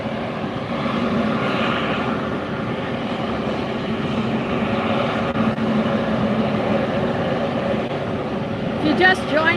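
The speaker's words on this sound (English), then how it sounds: "That is an A321neo" An Airbus A321neo airliner taxis past at Fort Lauderdale, a steady broadband engine roar and whine filling the scene, with voices talking over it throughout.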